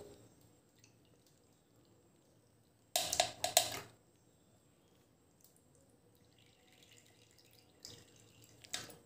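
Cooled herbal hair-rinse water is strained into a bowl in two short splashy pours, one near the start and another near the end, against a quiet, nearly silent background.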